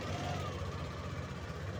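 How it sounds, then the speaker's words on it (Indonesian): Yamaha Aerox scooter engine running at a steady idle after starting, a close, continuous low rumble that holds an even level, with a faint voice in the background. "ini posisi mesin hidup ya, posisi mesin hidup"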